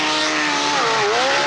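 A vintage Mercury Mark 75 outboard motorboat runs continuously as a loud, buzzing engine drone that dips briefly in pitch as the boat approaches and drives onto a sandbar.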